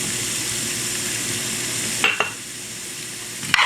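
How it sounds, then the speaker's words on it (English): Serrano peppers sauté in a hot pan for palak paneer, a steady sizzle under a couple of brief clinks of a utensil against the pan. "And we're just gonna kind of cook those, saute them nicely."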